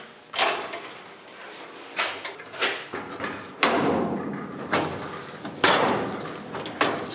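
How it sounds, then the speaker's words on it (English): Door of a 1956 Chrysler Windsor, badly aligned and bumping at the top, closed again and again: a run of sharp thumps and latch clacks, close and fairly loud, with no talking. "We're bumping in here at the top of the door. That's not allowing the door to close properly."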